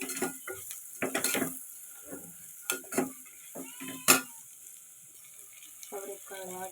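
Field beans (avarekalu) sizzle with masala in a pan, with stirring scrapes and spatula clatter up close. A person talks intermittently over the frying.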